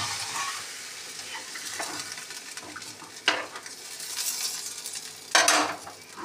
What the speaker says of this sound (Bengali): এবার বন্ধুরা জল দিয়ে দেবো, আর এর সাথে সাথে মাছটাও দিয়ে দিচ্ছি।